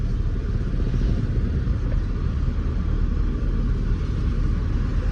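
A pickup vehicle driving near the Saputara hill station, a steady loud engine rumble throughout with no clear talk.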